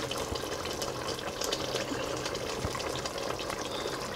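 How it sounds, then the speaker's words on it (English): Meat stock pours steadily into a pot of Nigerian efo riro vegetable soup, a continuous close splashing and trickling with no talking. "So I'll just be putting little of the meat water,"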